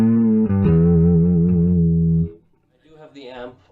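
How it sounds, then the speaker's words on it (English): A Chinese copy of a Rickenbacker 4003 bass picked through an amp with subtle distortion, a sustained gritty note ringing loud for about two seconds before cutting off, followed by a brief quieter tail. "with a pick you can, and like some subtle distortion from the amp, you can get a really nice gnarly sort of classic Rick tone"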